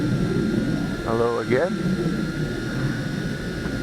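A Tarantula X6 drone hovers with a steady, loud whirring drone of its rotors throughout, while a person briefly speaks over it.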